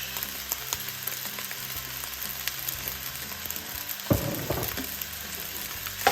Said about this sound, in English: Stir fry that.